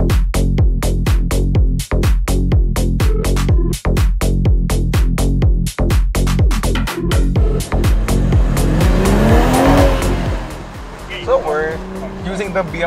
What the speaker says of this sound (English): The BMW M340 X-Drive right now for a Gymkhana course here at the Chang International Circuit.